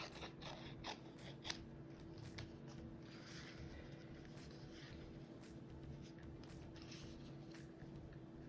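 Scissors snipping apart small paper pieces for a collage, a series of crisp, close, quiet cuts and rustles spread irregularly through the clip, with no talking.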